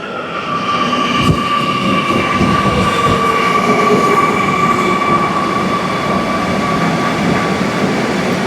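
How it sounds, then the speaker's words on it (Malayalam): A metro train arriving at a station rolls steadily and loudly nearby, with a continuous rumble, a sustained metallic whine and occasional wheel clacks throughout. "നമുക്കുള്ള മെട്രോ വരുന്നുണ്ട്"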